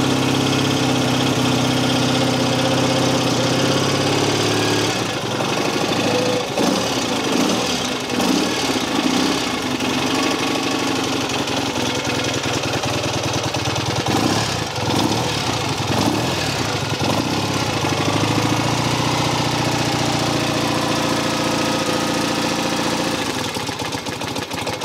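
A 1965 BSA A65 Lightning Clubman motorcycle engine runs cold on choke with a steady, loud, close idle and some uneven revving in the middle.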